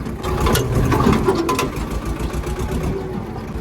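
A farm tractor engine running steadily on a rough jungle road, a close, continuous diesel chug with a rhythmic mechanical rattle and no talk.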